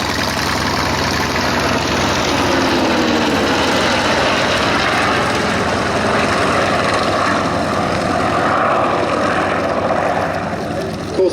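A Corsair propeller fighter flies at the Sywell Airshow 2024, its piston engine a loud, sustained drone that holds steady and close throughout.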